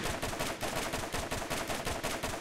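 Rapid bursts of an explosive-round gun firing in the shooter game Borderlands, a fast steady rhythm of loud close shots repeating without pause and no voices.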